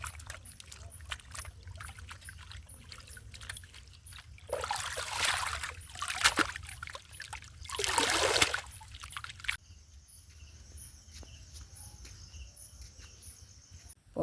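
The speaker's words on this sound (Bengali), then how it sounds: "এবারে পুকুরে ভালো করে ধুয়ে নেব।" Hinche greens being rinsed by hand in an outdoor pond: two bursts of splashing, sloshing water stand out over a steady background of chirping crickets, with quieter dripping between them.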